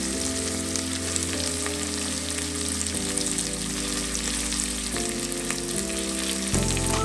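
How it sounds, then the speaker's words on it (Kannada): Mint and curry leaves fry in hot oil in a pan for vegetable pulao, giving a loud, continuous crackling sizzle with brief shifts in tone as the pan is moved, and no voices. "ಪುದೀನೂ ಕರ್ಬೇವು ಸೊಪ್ಪು ಹಾಕೊಂಡು ಫ್ರೈ ಮಾಡ್ಕೊಳ್ಳೋಣ"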